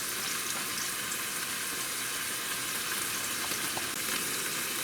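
Ground beef browning in an Instant Pot for Philly cheesesteak sloppy joes, a steady close sizzle and crackle of frying meat with faint stirring scrapes, continuous throughout and no voices.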